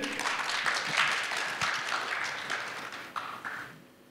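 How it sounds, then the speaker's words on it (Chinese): Audience applause fills a hall at a corporate real-estate company's 25th anniversary brand event, a steady wash of clapping for several seconds that thins out toward the end. "再次掌声感谢以上各位嘉宾精彩的分享"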